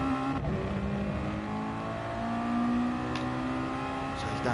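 Mazda touring car engine in a racing video game at Spa, heard on board through a lap: a steady droning, harmonic engine note holding near-constant pitch with slight rises, loud and alone.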